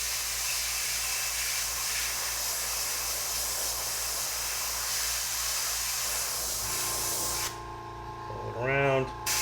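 An airbrush sprays paint over a filigree stencil in a steady, close hiss that runs unbroken for several seconds, then cuts off abruptly before a short, faint vocal sound at the end.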